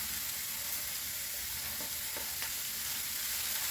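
Steady, dense sizzling of eggs frying over high heat in a hot pan, continuous and fairly loud with a few faint clicks.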